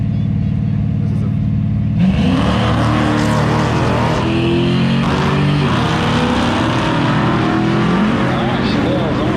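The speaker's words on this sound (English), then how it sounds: "He has a 2 at 13 reaction time to a 267, but the Dodge coming on strong down on the top end, gets there first." A Chevelle and a Dodge blast off side by side down a drag strip, engines roaring loud and close with a sudden surge of revving and a sustained full-throttle howl throughout.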